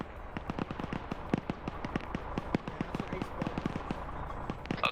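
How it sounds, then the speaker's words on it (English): Airstrike explosions in a military trench-warfare video game, a dense run of sharp bursts and cracks going off in quick succession over a steady rumbling din, with faint talk underneath. "An airstrike, but it's landing in between."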